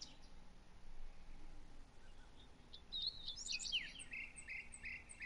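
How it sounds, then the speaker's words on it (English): Birds chirp and tweet in a turkey hunting video game, a few bright, quick calls over a faint steady outdoor ambience, rising into a brief flurry of twittering near the end. "Really sounds like fucking Tweety birds and crows"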